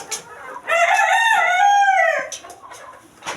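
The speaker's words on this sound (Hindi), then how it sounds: "अब ये सारी मुर्गियाँ आएंगी मेरे पीछे।" A rooster crows loudly and close by among chickens following someone for alfalfa feed, with one long, wavering cock-a-doodle-doo in the middle and brief clucks before and after it.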